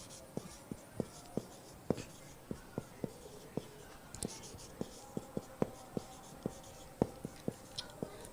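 A boy hand-writes math formulas, likely pen or pencil on paper, producing sharp irregular tapping and scratching strokes at close range throughout, with a faint voice in the background.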